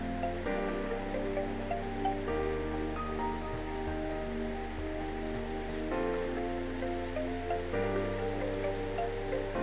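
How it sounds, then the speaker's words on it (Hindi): Chicken browning in ghee with onion in a pan, a steady soft sizzle and hiss running continuously at low level, with faint clinks of a utensil now and then. "अब हम अपना चिकन जो है वो भूनते हैं। इसके लिए पहले थोड़ा सा प्याज डाला, फिर इसमें घी डाला है हम लोगों ने।"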